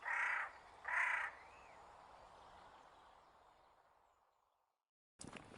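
A big crow squawks loudly overhead, two harsh caws in quick succession followed by a fading wash of ambience before an abrupt noise at the end.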